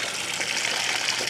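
A washing machine fills with water, a steady rushing gush of water pouring in continuously and fairly loud throughout, with no talking.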